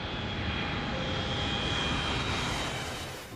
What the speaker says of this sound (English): As the plane lines up with runway 18R, everything looks normal.